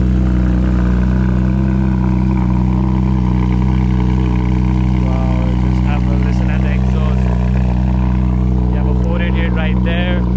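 A Porsche 992 GT3 engine idles with a deep, steady drone, then revs up in sharp, rising bursts; people talk nearby over the engine, outdoors in Dubai.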